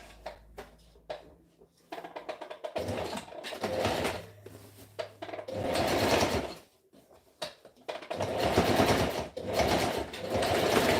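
A sewing machine stitches a v-neck shirt in a string of rapid mechanical bursts, some short and some sustained, with brief pauses between runs.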